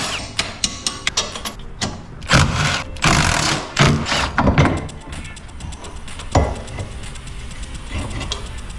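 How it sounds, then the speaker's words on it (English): Tools work bolts loose from a shock absorber on a Hijet mini truck, with scattered clanks, ratcheting clicks and bursts of an impact wrench, close and fairly loud amid shop noise. "Take these 2 bolts off the shock."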